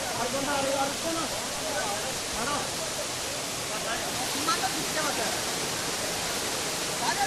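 Steady roar of the tiered Khoiyachora Waterfall in Mirsarai, a broad continuous rush of water filling the scene, with people talking faintly underneath.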